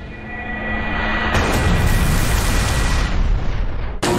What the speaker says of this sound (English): Phobier used Lunar Cannon.